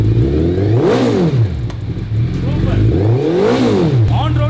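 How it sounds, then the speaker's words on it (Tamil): A motorcycle engine revs up and down twice in strong rising and falling sweeps, loud and close, with a throaty exhaust note. "exhaust சவுண்ட் அதை இப்ப பாத்துறலாம்"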